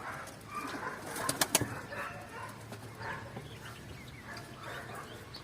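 Pigeons coo softly and repeatedly in a loft, their low burbling calls rising and falling throughout, with a few louder bird calls and wing or scuffle sounds clustered near the middle.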